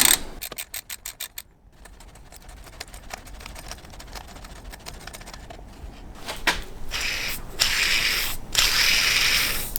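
An 8mm Allen key loosens the alternator tensioner pulley bolt on a BMW E46 M3 S54 engine, giving a quick run of ratcheting clicks followed by softer mechanical scraping and clatter, close up with no speech.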